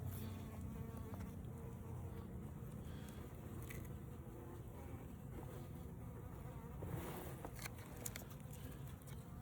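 Honeybee swarm buzzing during a beehive inspection while brood chambers are added, a dense continuous drone of many bees, faint and steady, with occasional light tapping.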